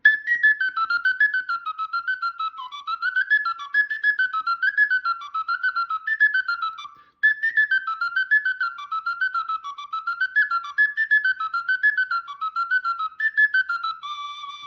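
Sicilian friscaletto flute playing the second part of La Messinese: a bright, clear solo melody of quick ornamented notes in a lilting repeating phrase, close and alone, with one brief pause midway.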